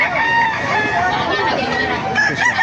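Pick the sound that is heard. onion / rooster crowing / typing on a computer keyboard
rooster crowing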